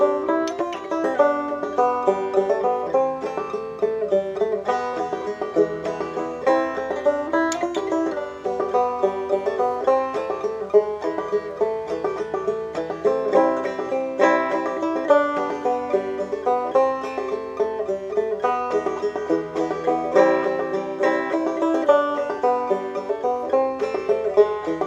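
Greensleeves is played on a clawhammer banjo as a continuous run of bright plucked notes and strummed brushes in a lilting rhythm, heard alone and close for about twenty-five seconds.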